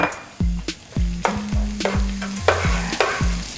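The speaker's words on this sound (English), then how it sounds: "Let that fry for about a minute." Dry chilies frying in black bean chili oil for General Tso's chicken, a steady sizzle broken by repeated scraping stirs of a spatula in a wok, loud and close with no talk.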